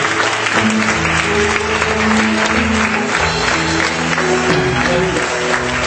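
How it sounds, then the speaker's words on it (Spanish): A crowd claps steadily and loudly throughout a church service, with sustained applause and no break. "Dale ese aplauso al Señor"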